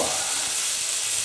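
Ham and cheese toastie frying in a pan, a steady bright sizzle with crackling hiss, close and continuous without pause.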